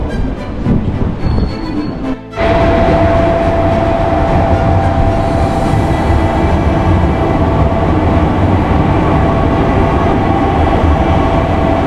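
A train rolls along with a loud, steady rumble and rattle, with a sharp jolt near the start and a faint whine.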